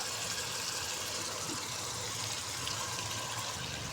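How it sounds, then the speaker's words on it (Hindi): Washed moong dal tipped into a pan of masala, giving a steady, fairly loud wet rushing and sloshing that runs continuously for about four seconds with no talking. "इसको हम डाल देंगे इस मसाले के अंदर।"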